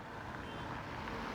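Steady traffic rumbles past a roadside stop on a foggy monsoon day beside flowing water, with trucks and cars sending up a continuous, fairly even wash of engine and tyre noise throughout.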